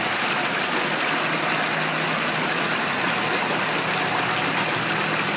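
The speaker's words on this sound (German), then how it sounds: "Und dann wird das Wasser angesaugt." Spring water flowing steadily as a Katadyn hand filter pumps it through a hose at an outdoor spring, a continuous broadband rush with no talking.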